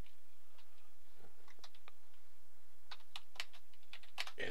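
Fingers type on a computer keyboard with scattered clicky keystrokes, sparse at first and then quicker bursts toward the end, close and alone over a steady low background hum.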